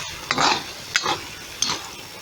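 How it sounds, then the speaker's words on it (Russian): Zirvak, the stewed meat and vegetable base, gets stirred in a kazan with three separate scraping, sizzling strokes spaced across a short stretch, close and moderately loud with no talk. "Давайте перемешаем все."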